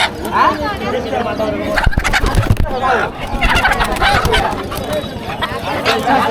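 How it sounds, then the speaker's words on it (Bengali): Roosters at a village poultry market in Nakla give dense, overlapping gobbling calls and clucks, close and loud, over a busy crowd murmur with people talking nearby. "দেখেন টনটনা মোরগ এই"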